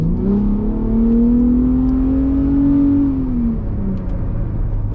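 A Ford F-150 Raptor pulls onto a highway, its engine note climbing steadily then easing off in one long, loud acceleration heard from inside the cab.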